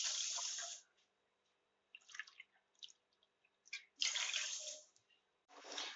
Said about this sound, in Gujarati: તે જ વાટકીના માપ પ્રમાણે આપણે 2 વાટકી પાણી એડ કરીશું